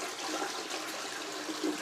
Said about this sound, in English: We then need to flush the cistern,